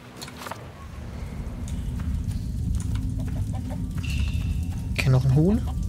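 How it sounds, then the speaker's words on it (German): Chicken clucking in a video game, a short run of clucks that rises near the end over steady background game noise and a speaking voice. "Okay, noch ein Huhn."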